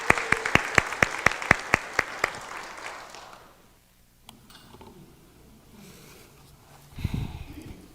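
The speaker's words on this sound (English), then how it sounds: "Let's give her another round of applause," Applause for a color guard dancer at a choir show: a handful of sharp, close claps in a quick rhythm over softer audience clapping that fades out after about three seconds, leaving quiet room noise and a low rustle near the end.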